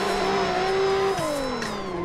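A tuned 1100hp VDC Nissan GTR in a racing video game is held in fourth gear, its engine a steady, loud, close drone that holds pitch and then drops lower, with no talk over it.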